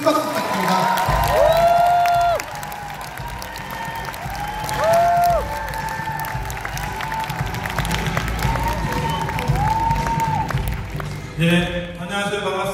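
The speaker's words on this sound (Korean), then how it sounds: "큰 박수 부탁드립니다" Audience at an Amway Together corporate talk applauding loudly as a speaker is introduced, dense clapping with some cheering filling the room, fading down before a brief voice at the end.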